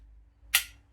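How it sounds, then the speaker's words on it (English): A WE 950 GBB airsoft pistol's slide snaps forward in a single sharp metallic clack, close and brief, against quiet room tone. "when you drop the mag, it just drops the slide"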